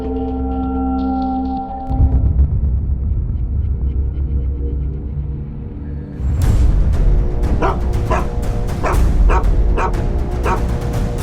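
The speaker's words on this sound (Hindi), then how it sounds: "कुत्ते का इस तरह एक ही जगह में बार बार भौंकना मुझे कुछ एब्नॉर्मल लग रहा है" A dog barks over and over at one spot, sharp loud yelps following a low droning hum, then a rapid string of close barks that keeps going to the end.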